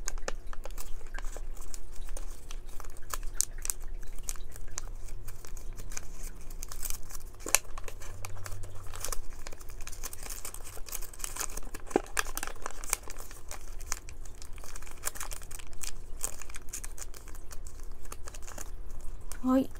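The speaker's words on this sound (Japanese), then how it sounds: "めくってこの角とこの角を合わせるようにこのように折ります。" Paper crinkling and rustling as a sheet is folded and pressed into a 3D origami ghost for Halloween, with close, continuous handling sounds and sharp creasing clicks spread across the stretch and no talking.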